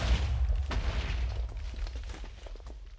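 A cannon blast in the Minecraft-style game Race For Wool, a deep booming explosion that rumbles and decays over a few seconds amid scattered smaller pops.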